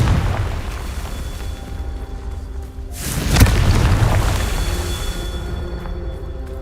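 Confringo fire spell from Hogwarts Legacy erupts in a loud, close booming explosion partway through, with a rumbling roar that lingers over the game's background ambience.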